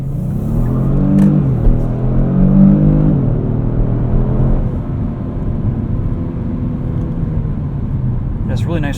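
A 2018 Kia Stinger GT RWD sports sedan drives with a steady engine drone and road rumble heard from inside the cabin, rising briefly as it accelerates while someone talks over it throughout.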